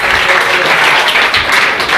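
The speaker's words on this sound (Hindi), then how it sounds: "मैं चाहूंगा एक बार सबा परवीन के लिए जोरदार तालियां हो।" Audience applause fills a school prize distribution for Class 12 results, a steady, dense wash of clapping lasting the full two seconds at close, loud level.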